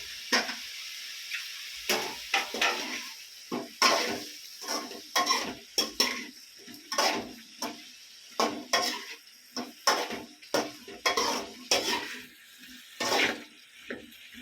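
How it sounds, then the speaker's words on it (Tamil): Eggplant pieces stirred in a spicy tamarind curry base of onion, garlic, mustard seeds and ground tomato, with a rhythmic series of spoon scrapes and knocks against the pot over a soft sizzle. "இந்த கத்திரிக்காய் போடுறேன்"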